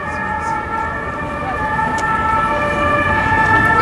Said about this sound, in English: don't you just love a European siren?